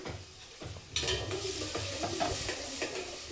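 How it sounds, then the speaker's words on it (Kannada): Onions and tomato fry in oil for a home-style mutton dish, a loud continuous sizzle broken by stirring scrapes in the pan, with no talking. "ಎಣ್ಣೆಗೆ ಫ್ರೈ ಆಗಬೇಕು ಈರುಳ್ಳಿ"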